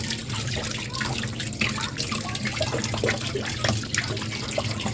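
Tap water runs steadily into a sink while ripe mangoes are washed by hand, a close, continuous splashing with uneven trickles and bursts as the fruit is turned under the stream.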